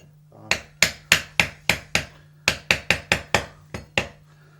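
A plastic-headed screwdriver taps out a pin on a Beretta Outlander A300 shotgun, giving about fourteen sharp, close knocks in quick, fairly even groups under a faint steady hum.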